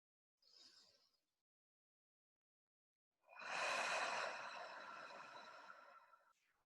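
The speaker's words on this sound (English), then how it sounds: "just take a couple of deep breaths in and out" During a guided meditation, someone takes a short soft inhale, then pauses before releasing a long, close, breathy exhale that slowly fades.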